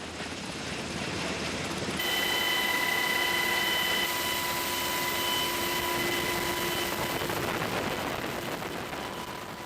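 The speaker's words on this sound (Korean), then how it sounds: "국군의 날 행사에선 12대 헬리콥터가 100m 간격으로 행사장에 진입하며 이 작전을 선보이게 된다." Military helicopters fly in formation at an Armed Forces Day event with a broad, continuous engine and rotor drone. Faint steady whines run through it, loudening slightly and holding level with no voices.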